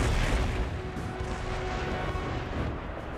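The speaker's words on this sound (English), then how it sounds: "Another volley off at their artillery." Artillery volley in Empire Total War, a dense, continuous rumbling roar of distant cannon fire blending into a steady wall of battle noise.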